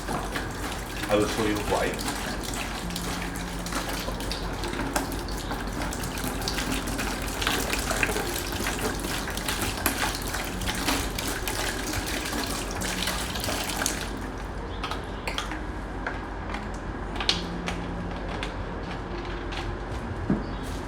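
Water from a coin-operated self-service car wash tap gushes steadily into a bucket for washing a car. The flow is continuous and close, with someone talking over it.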